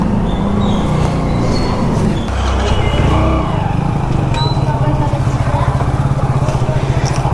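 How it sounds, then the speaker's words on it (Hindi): A motorbike being brought out in rainy Delhi, with a steady low engine chug that turns into a pulsing rhythm partway through, close by over a wet, noisy street background. "तो बाइक निकालता हूँ मैं बाहर की तरफ"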